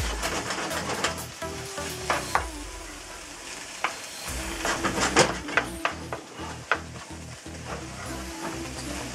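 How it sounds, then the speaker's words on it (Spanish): Pâté filling for brain and spinach cannelloni is stirred in a pan over the heat, a steady sizzle broken by scraping strokes and clinks of the utensil against the pan. "Y vamos a mezclar bien, bien mezclado acá mismo en el fuego 5 minutos"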